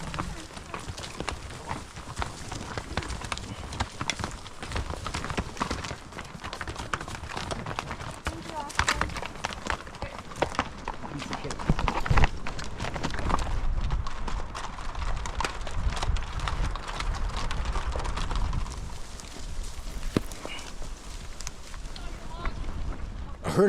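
Horses' hooves clip-clop steadily along a trail through timber and an old 2011 wildfire burn, an irregular patter of steps with wind noise, while a narrator talks over it.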